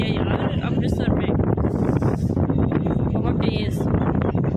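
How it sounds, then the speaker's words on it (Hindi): Strong wind in Amritsar buffets the microphone with a loud, continuous roar and gusty rumble, while someone talks over it. "बाकी यहाँ पे बहुत हवा चल रही है यार अमृतसर में"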